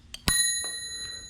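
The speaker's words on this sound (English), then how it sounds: "The bell, I just got it in a trade." A bicycle bell on a TransAm Bike Race touring bike rings once, close and bright, and its metallic tone lingers and fades over the following second.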